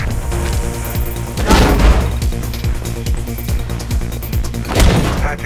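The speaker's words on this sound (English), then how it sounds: "I can hear gunshots" Gunfire in the video game Mirror's Edge: dense bursts of shots with two heavier booming blasts, loud and continuous over a thick, noisy background with no talking.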